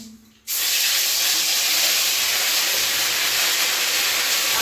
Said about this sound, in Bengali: মাছ ভাজার তেলে রসুন আদা বাটা দিয়ে দিচ্ছি